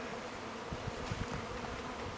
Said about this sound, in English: See how the bees are coming up, they want to drink right away.